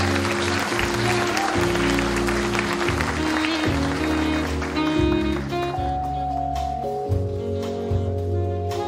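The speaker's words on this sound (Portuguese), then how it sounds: "Uma salva de palmas" Audience applause at a 2018 fifth-grade graduation ceremony at Escola Batista, a dense, steady clapping crowd over loud music throughout.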